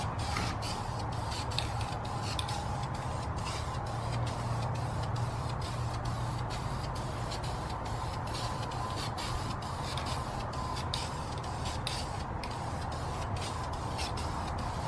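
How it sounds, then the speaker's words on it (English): Steady hiss of an aerosol spray can applying a heavy coat of paint to an aluminum wheel on a BMW E90 335i during curb rash repair, continuous and close with faint rhythmic clicking. "I like to go for a third heavy coat before the second one dries so it can bond into itself."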